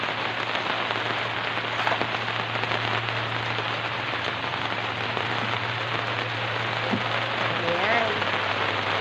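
Steady rain patters densely on a surface, loud and continuous, with a low hum underneath and faint voices in the background.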